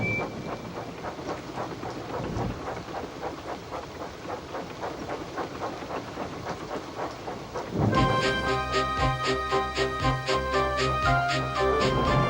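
A cartoon steam engine in pouring rain chuffs along in a steady rhythmic beat over continuous rain noise, joined partway through by louder music.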